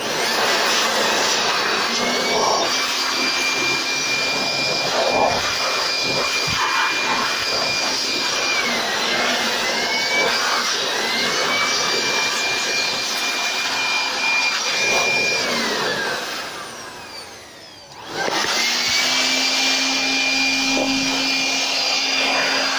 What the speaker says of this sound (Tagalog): Ito, i-blower ko na natin.